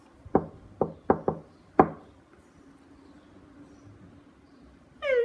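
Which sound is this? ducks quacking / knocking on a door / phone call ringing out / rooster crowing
knocking on a door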